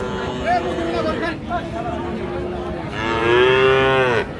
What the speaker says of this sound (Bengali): এগুলো কিন্তু ষাঁড় বাচ্চা